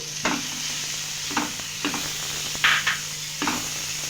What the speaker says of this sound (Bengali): একটু লঙ্কা, কাঁচা লঙ্কা দিয়ে ভালোভাবে মশলাটা আমি কষিয়ে নিচ্ছি।